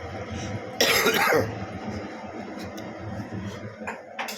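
A single short cough from someone with a cold bursts out over a low, steady background hum, then the room settles back to quiet rumble.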